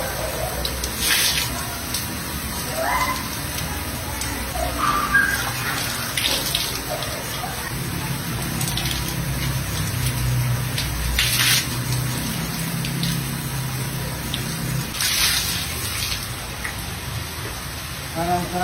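Water runs steadily from a tap or shower during a nighttime bath, with splashes and drips throughout and occasional soft voices in the background.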